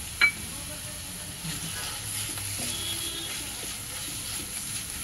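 Ground corn and mixed vegetables sauté in a pan, a soft continuous sizzle with faint scraping of a spatula, fairly quiet and steady throughout.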